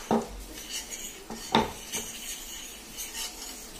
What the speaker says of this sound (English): So we'll add our minced garlic, then give it a stir